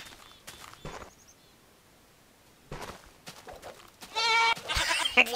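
A Minecraft goat bleats in short, faint calls, followed later by louder, closer bleating bursts near the end amid quiet game ambience.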